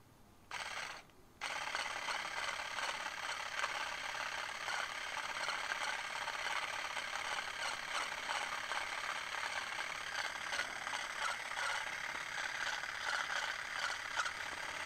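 A dreadlock extension tool works hair in and out with a faint continuous rattling, clicking mechanical whir that runs steadily after a brief pause at the start, quiet and close with no talk.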